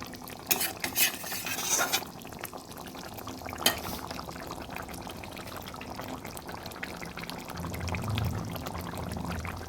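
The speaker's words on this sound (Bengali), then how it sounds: "ভালোভাবে নেড়ে দিচ্ছি" Katla fish curry is stirred in a pan, a spoon scraping and clinking against the metal in a few quick strokes near the start, followed by a soft bubbling simmer that grows slightly louder toward the end.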